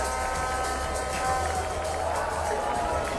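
Crowd cheering at Queen's Sports Club during a Pakistan versus Zimbabwe T20 cricket match, heard as a steady, loud roar that holds without pause.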